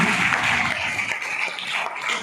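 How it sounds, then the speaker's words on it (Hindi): Loud, sustained applause from a church congregation at a healing meeting, a steady dense wash of clapping that runs without a break from start to finish. "जोरदार तालियां"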